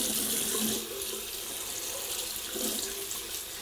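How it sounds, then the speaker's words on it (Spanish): Warm water runs steadily from a tap into a basin to bathe a ferret, a constant close splashing flow with slight swells and no talking. "Le vamos a poner el agüita así templadita y con poca cantidad."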